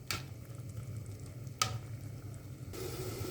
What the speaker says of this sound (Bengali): দেখেন আমি মাংসগুলো দিয়ে দিয়েছি। এখন এটাকে আমি একটু নেড়ে ছেড়ে নেব।